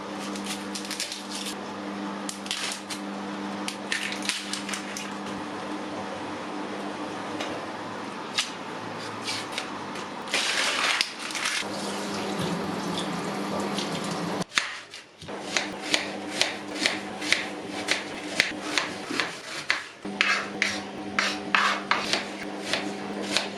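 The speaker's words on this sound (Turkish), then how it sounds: "baş soğan doğrayacağım." Repeated knife strokes on a cutting board, steady and close, with scraping and rubbing sounds between bursts of chopping.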